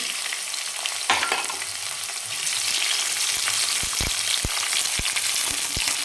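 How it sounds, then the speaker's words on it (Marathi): Chopped onion and green chilies fry in a pan with a dense, steady close sizzle, while a series of sharp utensil clacks and stirring knocks punctuate the second half. "आपण आता कांदा थोडासा एक दोन मिनिट परतून घेणार आहे"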